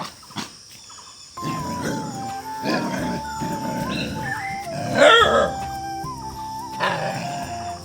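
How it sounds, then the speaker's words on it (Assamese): Two dogs play together outdoors, letting out close, loud bursts of yelps, whines and howl-like cries in an uneven rhythm, with short quiet gaps between the outbursts. "ইফালে চাওক দুটা কুকুৰে মানে খেলি আছে এনে।"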